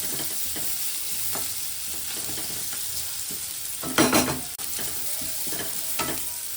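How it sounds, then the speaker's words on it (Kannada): Onion, tomato, ginger garlic paste and pepper stir-fry in a pan with a steady broadband sizzle, broken by a few sharper scraping stirs and one louder burst of spattering, with no talking. "ಸ್ವಲ್ಪ ಚೆನ್ನಾಗಿ ಫ್ರೈ ಆಗಲಿ."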